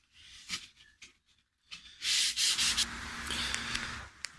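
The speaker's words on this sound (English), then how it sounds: "I'll continue to scrape and sand and clean up the binding generally." Guitar body binding is sanded with 240 grit sandpaper, giving a few short scratchy rubs followed by a longer, steady close-up rasping stretch, no talking.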